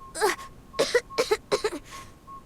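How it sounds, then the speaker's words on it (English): A character in the AFK Journey game coughs in a rough, strained series of four or five hacking bursts, close and clear, with a faint background tone. "You're coughing again."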